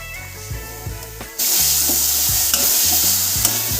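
A paste of onion, garlic and chili hits hot oil and bursts into a loud, dense sizzle that holds steady to the end, after a few quieter stirring knocks, all close up.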